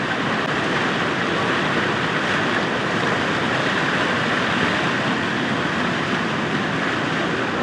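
Floodwater rushing through an overflowing river after extremely heavy rain in Gujarat, a steady, loud broadband roar that stays constant for the whole stretch with no talk over it.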